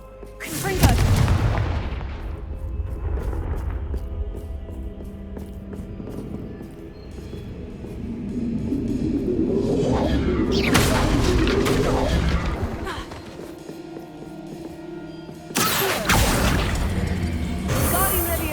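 The Confringo explosion spell in Hogwarts Legacy sounds as a series of loud, booming blasts and rumbling impacts with crackling bursts, mixed with other game effects and a voice.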